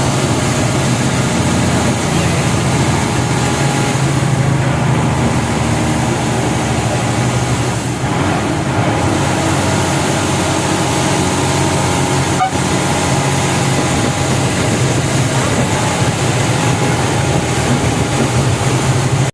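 A bus engine rumbles loud and continuous from inside the cab on a North Andaman road between Diglipur and Mayabunder, with steady road noise, rattling and a brief horn-like tone partway through.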